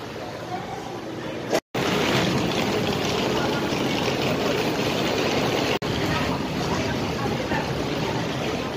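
A steady low boat engine idle rumbles throughout, loud and close, at a port for the boat to Boracay, with a brief dropout near the start; no voices stand out.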